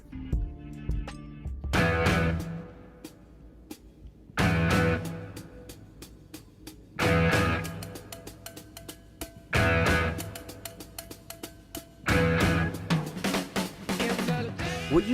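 Rock drums and guitar of a song's intro hit together in loud, repeating bursts a couple of seconds apart, with a booming kick drum driving each stab and silence-ish gaps between.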